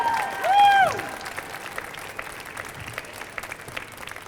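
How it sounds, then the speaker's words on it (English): Applause from a story slam audience after the performers are praised, a steady wash of clapping that carries on evenly and fairly softly after a brief tonal swell at the start. "Give them a round of applause."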